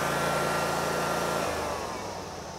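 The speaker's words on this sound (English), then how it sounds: "she's running at full throttle right now" A Cub Cadet RZT 50 zero-turn mower's Kawasaki FH661V engine runs at full throttle, a loud, steady, close droning roar that eases slightly in pitch partway through.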